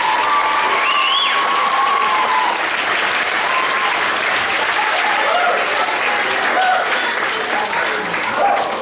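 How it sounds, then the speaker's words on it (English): A loud, sustained round of applause from a school concert audience for a group of sixth-grade musicians at a winter concert, dense clapping and crowd noise running evenly throughout. "Can we give them a round of applause, please?"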